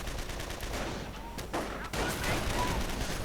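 Gunfire from Volksgrenadier infantry in a WWII strategy video game, a continuous rattle of rifle and machine-gun shots under battle noise, fairly dense and steady throughout.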